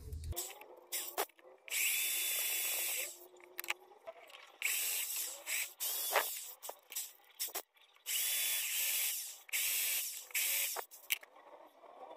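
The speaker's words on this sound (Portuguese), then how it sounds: "Eu vou tentar furar com essa daqui, essa ponta da broca chata." A power drill with a flat spade bit bores a hole in a wooden handle for a silicone spoon, whining loudly in several long bursts separated by short pauses and rattles, close up.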